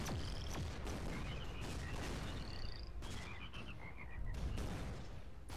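Croaking frogs from a frog weapon in the artillery game Shellshock Live, a steady chorus of repeated chirpy croaks over continuous game rumble and explosive bursts, with no voices.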